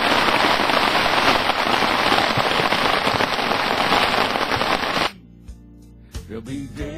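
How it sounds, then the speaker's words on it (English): Steady, dense rain patters and hisses loudly for several seconds, then cuts off abruptly, leaving a quiet room with faint soft noises. "topped off with a bit of rain"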